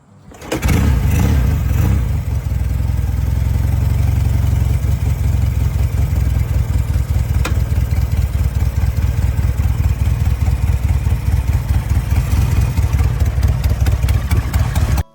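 A vintage British Norton Atlas motorcycle engine fires up after a brief crank and settles into a loud, close, steady idle with a throbbing rhythmic beat, with no voices.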